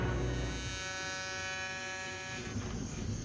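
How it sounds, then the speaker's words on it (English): TIG welding on the rear storage doors of a custom flatbed overland camper build gives a steady, close electric buzz with a droning hum that holds for about three seconds. "So we're at Bling Services and they're going to do a little welding here"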